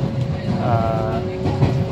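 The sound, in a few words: train running on rails, heard from inside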